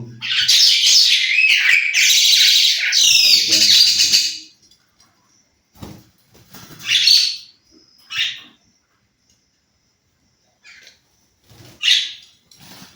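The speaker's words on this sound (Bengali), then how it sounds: "শালিক পাখি" A common myna gives harsh, squawking calls, first a sustained burst of chattery squawks, then several shorter separate calls with pauses between, close by.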